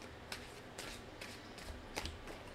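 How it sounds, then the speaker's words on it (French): Cards are drawn from a deck, giving four or five soft, quick papery flicks at uneven intervals over faint room quiet. "Je vais aller chercher 8 cartes de mon jeu."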